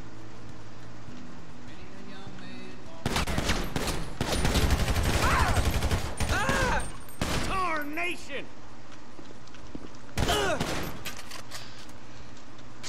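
Police gunfire in a FiveM GTA V roleplay shooting: a dense, loud burst of rapid shots near Yellowjack on Panorama Drive, followed by a few scattered cracks and then a last short volley, with vehicle noise and shouting underneath.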